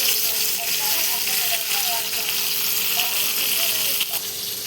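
Cumin seeds sizzle in hot oil for a dill and sour chukka greens dish, giving a steady, close frying hiss with small crackles throughout and no talk.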